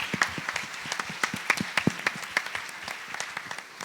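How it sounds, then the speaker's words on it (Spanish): An audience at an international human management congress claps for panel guests in a sparse, fairly quiet applause with individual claps clearly distinguishable, tapering off toward the end. "un aplauso para dar inicio a todos los invitados"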